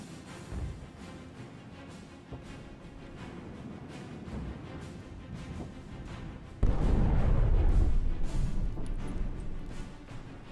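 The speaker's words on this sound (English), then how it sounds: "the artillery is really well done in this game" Artillery barrages in a modern NATO-versus-Soviet wargame: distant rumbling impacts thud irregularly, then a much heavier close blast erupts and rolls on loudly as a sustained roar.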